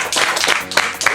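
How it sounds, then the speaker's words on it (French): A sports club group applauds together during a team trip in Morocco, several bursts of clapping in quick succession, close and fairly loud. "vous pouvez tous vous applaudir pour le taf qui a été fait"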